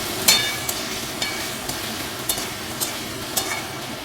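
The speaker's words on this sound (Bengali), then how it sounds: "এবার এটা ভাজতে থাকুন" Salted potatoes fry in a pan with a steady hiss, and light clicks of a utensil against the metal recur at regular intervals.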